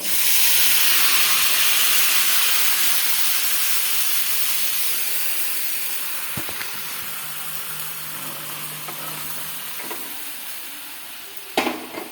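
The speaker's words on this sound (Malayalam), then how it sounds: "കറി നമ്മൾ കടുക് വറുത്ത് അങ്ങോട്ട് ഒഴിച്ചിരിക്കുകയാണ്" Hot curry poured onto mustard seeds fried in oil, giving a loud, steady hiss and sizzle that slowly fades, with a few clinks of a pan or utensil near the end.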